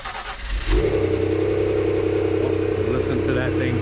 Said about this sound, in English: Let's go ahead and do a nice little cold start